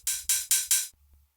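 Open hi-hat one-shot sample for a psytrance kit, four sizzling hits in quick succession, each a bright hiss that rings briefly before the next, loud and alone, then a faint low hum.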